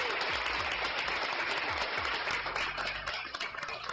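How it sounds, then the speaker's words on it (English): An audience claps their hands together, a dense wash of many overlapping claps sustained for several seconds before thinning toward the end, moderately loud and continuous. "One more hand clap."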